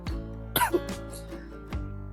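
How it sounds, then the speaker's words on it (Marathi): A person with a cold coughs several times close by, a couple of harsh hacking bursts followed by a softer cough, over a steady engine hum while riding a motorbike. "सर्दी खोकला पकडला आहे गावाला आल्यावरती डायरेक्ट मुंबईतून"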